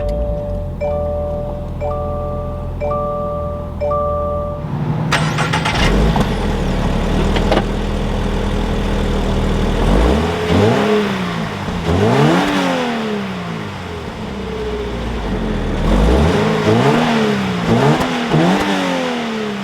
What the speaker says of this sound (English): if I go ahead and push the clutch in, we can go ahead and fire it up